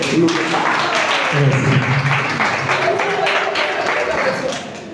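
Audience applause at a public speaking training session, a dense wash of clapping that holds steady for about five seconds and fades slightly at the end, with voices mixed in.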